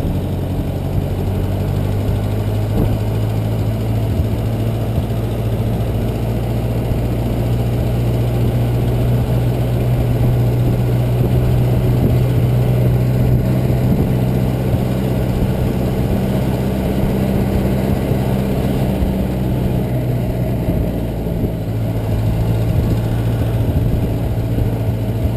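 The engine of a 1922 Ford Model T runs steadily on the open road, a loud continuous low rumble and drone with constant vibration throughout.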